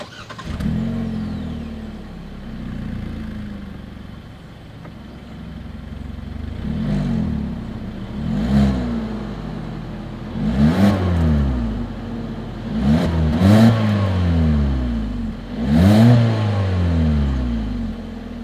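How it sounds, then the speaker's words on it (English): A 2021 Hyundai Kona with a single exhaust outlet idles and then revs repeatedly, each blip of the engine rising and falling through its exhaust, close and loud. "As always, here is that exhaust clip."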